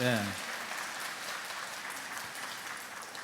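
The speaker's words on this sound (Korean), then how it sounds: "저하고 박수 좀 쳐드리세요" Audience clapping at a book talk on Don Quixote, a steady, moderately faint crowd applause with a brief voice at the very start before the clapping carries on evenly.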